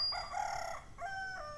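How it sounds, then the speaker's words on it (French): Roosters crow in the morning, two clear cock-a-doodle-doo calls in quick succession, loud and fairly close, with no other sounds over them. "Pourquoi est-ce que les coqs ils chantent le matin?"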